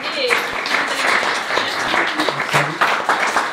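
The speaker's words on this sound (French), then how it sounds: "je propose qu'on vous applaudisse" Audience applause at a conference on natural wines and Alsace held by the Confrérie Saint Étienne, a dense, sustained patter of many hands clapping close by, with voices mixed in.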